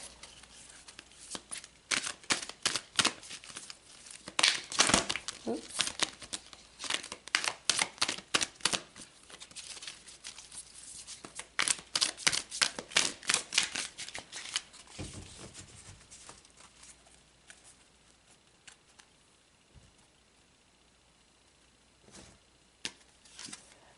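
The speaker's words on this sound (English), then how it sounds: "let's pull some more cards" Tarot cards are shuffled in rapid, riffling bursts, close and crisp, then a few single cards are pulled with soft slaps and slides. The shuffling stops and starts again before it fades to sparse handling with no talk.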